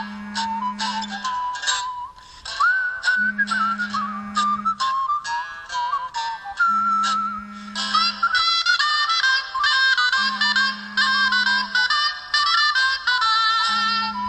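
A mobile phone ringtone plays a bright, whistle-like electronic melody with quick tinkling notes over a repeating low tone, steady and loud for the whole stretch with no talk.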